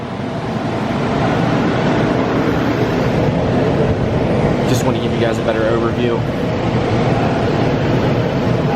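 A loud, continuous engine roar from an 800hp K20-powered MR2 on a dyno fills the space, steady and droning up close, while someone speaks over the noise.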